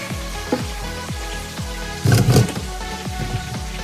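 Boiled water being strained off peas into a sink, heard as a steady rushing, sizzling pour with a louder splashing burst partway through, close and alone.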